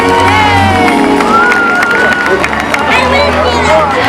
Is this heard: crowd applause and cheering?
yes